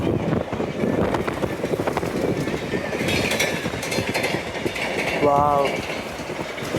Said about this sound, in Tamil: ட்ரெயின் போகுதுங்க.